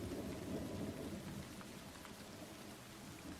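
Heavy rain pours at night, a dense, steady hiss of falling water with a low rumble underneath, fairly faint and continuous throughout with no voices.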